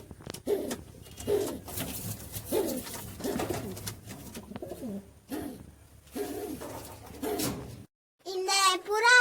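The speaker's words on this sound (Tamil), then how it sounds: "புறா செட்டுக்குள்ள இருக்க புறாவை பார்க்க போறோம்." Pigeons coo in a pigeon shed, soft repeated low coos in an irregular rhythm close by, with a voice talking over them and a few higher bird chirps near the end.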